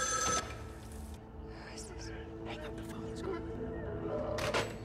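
A telephone rings in the film As Above So Below, with ringing tones at the start and again near the end over a murky background of voices and ambient sound.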